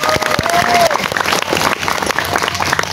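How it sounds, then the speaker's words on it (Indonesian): A crowd claps loudly and continuously at a large open-air religious sermon gathering in Belitung, with scattered cheers, whistles and a few voices rising over the dense applause. "Tepuk tangan buat anak muda yang hebat."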